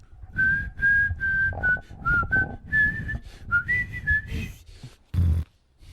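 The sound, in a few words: whistled tune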